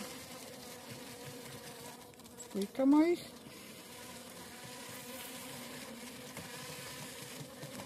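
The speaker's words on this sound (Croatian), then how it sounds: "Pčela ima dovoljno." Honey bees buzzing around beehives fed with foam, a continuous low hum of many insects with a short close buzz passing by, and a quiet voice speaking briefly.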